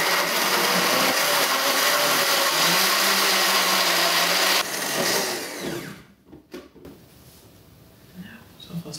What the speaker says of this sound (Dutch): Nu ga je gewoon de blender aanzetten.